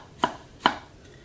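Two crisp knife chops through gherkins strike a cutting board, evenly spaced in a quiet room.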